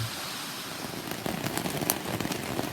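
Steady rain patters on a surface at a riverside campground in Deep Creek, North Carolina, a dense broadband hiss with scattered sharper drips, continuous and fairly close.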